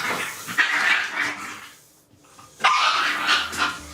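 Dogs bark and whimper in bursts at close range, loud and agitated, with a short quiet gap midway before barking resumes.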